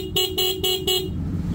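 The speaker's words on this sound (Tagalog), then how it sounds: "Hella Compact yan, 110 decibel." A waterproof Hella Compact horn rated at 110 decibels, fitted to a CB500X motorcycle, blasts four loud, rapid honks in a row, then the last one fades out.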